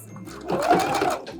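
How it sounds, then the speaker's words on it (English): A sewing machine runs a short back-stitching burst while attaching rib knit trim to a garment cuff, its motor hum rising to a steady whirring drone for about a second, close up and alone. "Back stitch and overlap your stitches by a few stitches"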